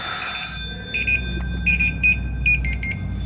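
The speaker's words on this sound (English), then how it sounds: "What that alarm says is that I'm running low on air." A firefighter's air tank sounds its low-air warning: a loud steady tone that stops, followed by a series of short, rapid high-pitched electronic chirps in irregular bursts.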